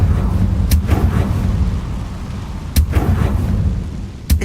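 A Confringo fire spell explodes in Hogwarts Legacy, a few sharp booming blasts cutting through a dense, rumbling game soundscape, with a final loud burst near the end.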